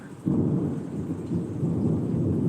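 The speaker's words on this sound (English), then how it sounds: "That's why the lightning's picking up, dude." Deep rolling thunder from a lightning storm rumbles loud and close, sustained and swelling over steady rain, with no talking.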